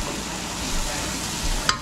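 Onion and garlic sautéing in a pan, a soft continuous sizzle with faint stirring scrapes and a brief clink near the end, fairly quiet with no talk.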